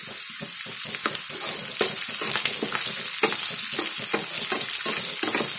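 Curry leaves crackling with onions in hot oil for gongura pachadi, a loud close sizzle with dense sputtering pops throughout, with no talking.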